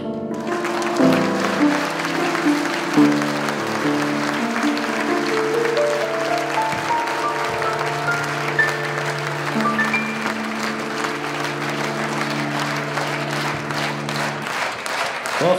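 An audience applauds a singer at a live show, a steady, dense wash of clapping held for about fifteen seconds over sustained music.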